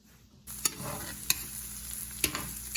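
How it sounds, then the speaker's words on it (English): Finely diced onion hits hot beef drippings in a pan and breaks into a steady sizzle, with a few sharp clicks of a utensil against the pan, close and moderately loud, with no talking. "Now we're gonna add our finely diced onion to the beef drippings in the pan."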